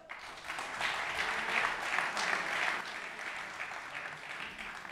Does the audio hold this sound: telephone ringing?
no